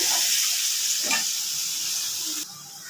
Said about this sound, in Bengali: এবার আমি আলুটা ভালো করে ভেজে নেব।